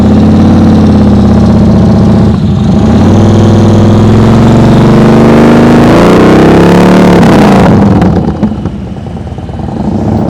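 A motorcycle engine held at a steady, raised throttle during slow-speed riding practice drones loud and close, a constant mid-low hum that eases off near the end.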